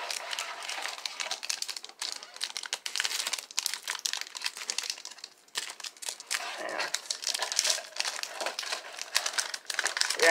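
Foil wrapping on a pack of Opening Day baseball cards from a blaster box crinkles and tears in close, busy bursts that run continuously, with handling rustle throughout.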